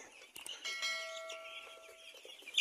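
Eleven-day-old broiler chickens on a farm peep and chirp in a dense, continuous chorus close by, with a few sharper calls rising above the flock.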